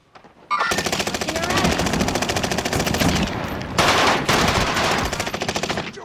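Sustained rapid machine-gun fire in Call of Duty, loud and close, rattling almost without pause for several seconds with a brief dip before resuming.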